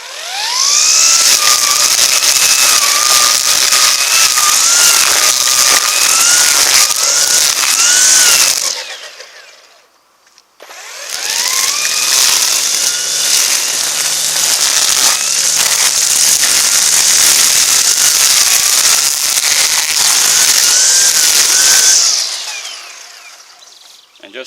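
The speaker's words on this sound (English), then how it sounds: "And just that quickly, I trimmed my old stump." A Ryobi 18 volt Expand-It string trimmer with thick line cuts into an old stump, its loud high motor whine rising and falling over two long bursts separated by a short pause.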